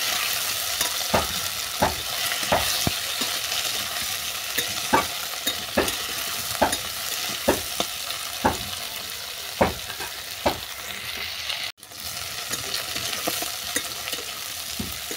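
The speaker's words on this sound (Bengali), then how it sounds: "এই সমস্ত উপকরণ ভালো করে ভেজে নেব।" Water spinach stems and mixed vegetables frying in a pan, a constant sizzle broken by regular stirring scrapes about once a second, with a brief dip near the end before the sizzling resumes.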